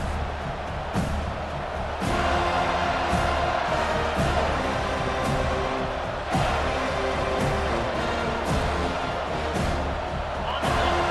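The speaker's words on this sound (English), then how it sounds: "This crowd bringing the energy and noise early" A large football stadium crowd roars and cheers in a dense, continuous wall of noise at a college football game, with loud swells and thumps recurring every few seconds.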